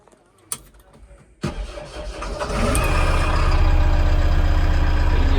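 A motor engine, likely from a tractor or JCB, cranks with a couple of sharp clicks and then catches, rising into a loud, steady, rumbling idle close by.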